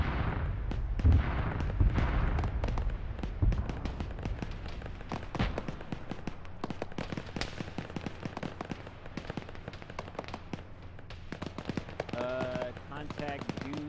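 Rapid gunfire crackles in a military video game, dense bursts and single shots, some sharp and near, others distant, with voices talking over the shooting.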